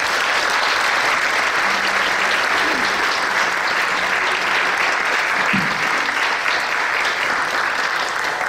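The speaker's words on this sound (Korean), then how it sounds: "우리 큰 박수로 맞이하시겠습니다" A church congregation at a Korean church anniversary service gives loud, continuous applause to welcome the denomination's general assembly president, a dense wall of clapping that holds steady throughout, with a few faint voices underneath.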